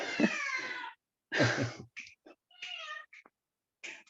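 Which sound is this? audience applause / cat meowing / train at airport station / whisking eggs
cat meowing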